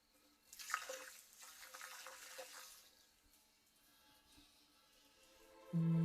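Water pours and splashes into a Qvevri, a large traditional Georgian clay wine vessel, during water testing before burial, a broad rushing wash that swells then eases to a softer trickle and drips, with a low hum entering at the end.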